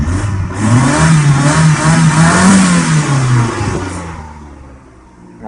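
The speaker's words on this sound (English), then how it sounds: "I'm going to rev it up and see if I get some white smoke" A 1994 Mazda MX-3 engine, suspected of a head gasket fault, revs up from idle close by, its pitch climbing and holding in a loud, steady roar before falling back down toward idle.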